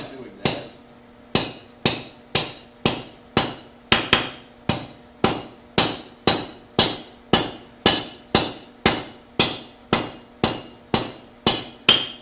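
Steady hammer blows strike hot metal on an anvil during forging, about twenty sharp, ringing hits in an even rhythm, close and loud with no talk.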